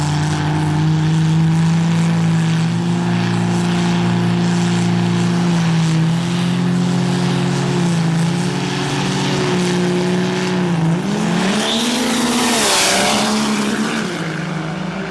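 Diesel trucks race at a drag strip in Indianapolis, a loud, sustained engine roar with a steady droning tone that climbs and shifts as a truck accelerates hard, close by and with no talk.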